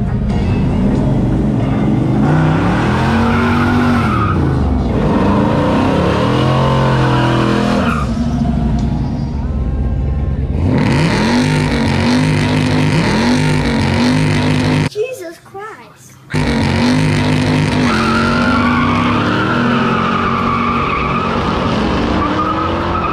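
Drag racing cars launch hard down a strip at a West Virginia track, loud roaring engines rising through the gears with tire squeal, one run after another close by.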